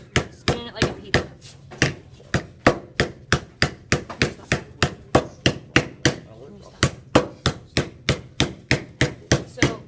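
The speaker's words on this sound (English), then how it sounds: "I'm holding it at an angle, and I'm beginning to hammer it like this" A hammer strikes sheet metal held at an angle and turned steadily while it is formed into a dome. The blows come loud and close in a fast, even rhythm of about three per second, with no talk over them.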